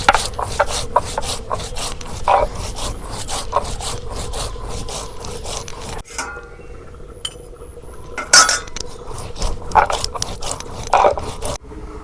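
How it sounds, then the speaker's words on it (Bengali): Cumin and coriander seeds ground on a shil-pata stone make a steady scraping, rasping rub, stroke after stroke in a fast rhythm, close and loud, with a pause midway before the grinding picks up again with occasional clinks. "আমি শিলপাটার মধ্যে ধনিয়া জিরা নিছি, এখন বাইডে দেই।"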